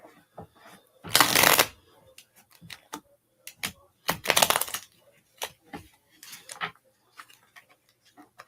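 Two loud riffling shuffles of playing cards, separated by softer taps and clicks of cards being squared and handled.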